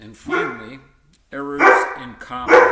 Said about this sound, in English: That's the dog. You've got to ignore her.